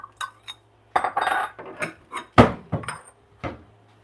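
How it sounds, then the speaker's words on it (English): Dishes, cutlery and containers knock and clink in a home kitchen as sauce dishes are taken out, several sharp close clatters in an irregular run, with a cupboard or door bump among them. "I'm going to get out a couple dishes for sauces"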